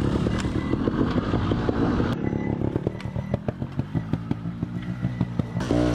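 A trial motorcycle's engine climbs a slope, revving hard and near with a steady throaty drone and a sharp shift partway through, then rapid rhythmic pulses as it works up the incline.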